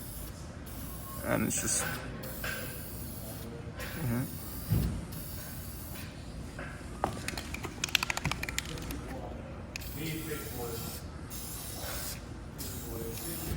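A spray gun lays a slow wet coat of paint over a bondo body repair, with a steady hiss in several passes and short gaps, while a person talks over it.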